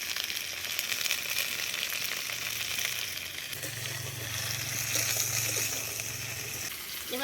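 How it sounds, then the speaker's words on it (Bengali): Colourful summer vegetables, aubergine among them, fry in hot oil with a steady close sizzle and bubbling, joined midway by a low hum. "সমস্ত রঙিন সবজিগুলো আমি তেলে ভেজে"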